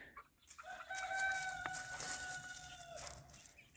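Silkie hens on a homestead flock give a drawn-out, crow-like call lasting a few seconds, with softer clucking around it and no talking.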